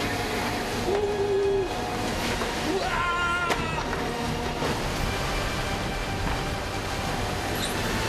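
Rough sea waves crash around a pufferfish fishing boat at work, a loud, continuous wash of water under the steady drone of the boat's engine.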